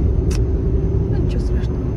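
Steady low rumble of a car driving on a road, heard from inside the cabin, with a few brief higher squeaks over the drone.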